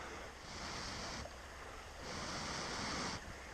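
Wind blows across a beach in a broad, rushing roar, close and continuous, with gusts that swell and ease twice. There is no talk over it.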